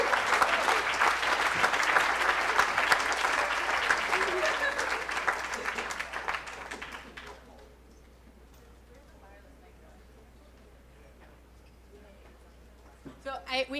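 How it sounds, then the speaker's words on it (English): An audience claps in a sustained burst of loud, dense applause for about seven seconds, then the room falls nearly quiet before a few voices and claps return briefly at the end. "Round of applause."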